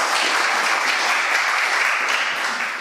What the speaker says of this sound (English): a big applause to that